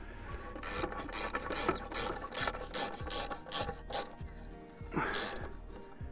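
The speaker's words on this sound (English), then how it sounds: "We're just in the process of screwing them in now with a ratchet." A hand ratchet clicks in quick repeated strokes while driving screws that fix a wooden fence post to a wall, a close rasping, clicking rhythm with brief pauses outdoors.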